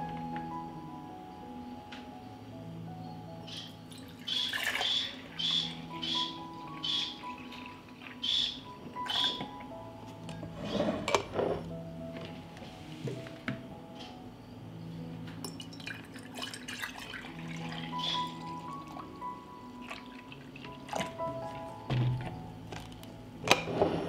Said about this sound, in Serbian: Mleko ću sipati u čiste i oprane tegle.